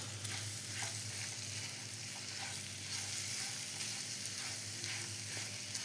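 Dates and salt for a date pickle are stirred together in a pan, giving a steady, close scraping rustle with a faint continuous sizzle-like hiss and no talking.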